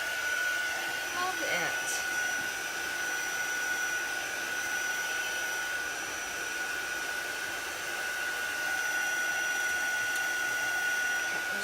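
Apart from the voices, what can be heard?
dryer drying chalk paste ink on a buffalo plaid sack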